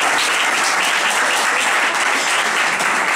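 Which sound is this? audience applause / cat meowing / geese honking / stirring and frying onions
audience applause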